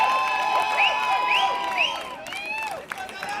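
Crowd cheering and clapping at a volleyball match between the Raptors and the All Stars, a loud sustained roar with scattered shouts and whistles mixed in.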